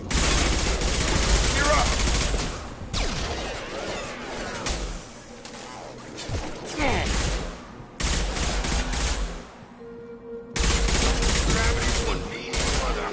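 Intense automatic gunfire in the video game Mass Effect Legendary Edition, loud bursts and rapid fusillades that cut off abruptly and resume, with brief quieter gaps and a short spoken line mixed in.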